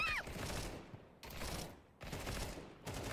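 Video game gunfire comes as sustained, dense bursts of rapid shots in three long volleys separated by brief gaps, loud and near, with a short synthetic chirp at the start.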